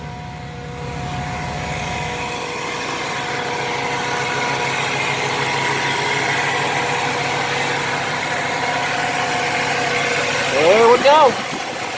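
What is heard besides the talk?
1970 Chevy truck engine idling, noisy fuel pump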